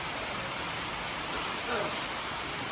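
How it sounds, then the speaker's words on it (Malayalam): Heavy rain falls at Kedarnath as a dense, even hiss of close downpour that fills the whole stretch without a break. "നല്ല മഴ തുടങ്ങി കേട്ടോ"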